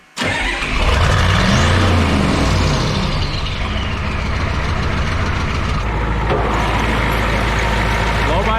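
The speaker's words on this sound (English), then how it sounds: "let's actually take it for a test drive" A Ford F250 twin turbo diesel truck with a ZF5 swap starts up and settles into a loud, steady engine drone that holds for several seconds, heard close while driving off on a test drive.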